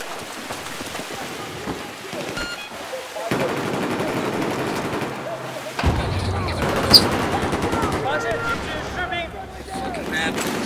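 AR-160 rifle fire in the Battlefield 4 video game on the Guilin Peaks map, with bursts of rapid automatic shots and crackling battle noise over continuous game ambience, and a louder crack partway through.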